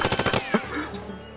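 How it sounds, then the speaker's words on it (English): A turret fires in the Worms Revolution video game, a rapid burst of about five loud shots followed by a lone impact and a fading tail. "Your turret shot me"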